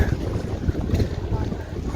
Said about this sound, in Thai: ลมมันแรงลมปะทะหน้าเนี่ยลมแรงมาก